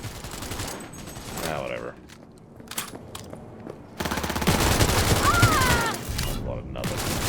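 Bursts of rapid automatic gunfire from new weapons in the video game Cyberpunk 2077, loud and close, broken by short pauses and mixed with mechanical clatter, while someone speaks briefly.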